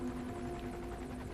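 A helicopter with a searchlight circles in the Metal Gear Solid 5 video game, a steady low rotor drone with a faint whine, distant and unbroken for a brief moment.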